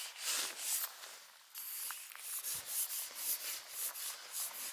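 A knife cuts blocks from deep, packed snow to build a snow cave during winter camping. Close, raspy scraping and rubbing strokes repeat in an uneven rhythm, with a soft thud partway through and no talk over them.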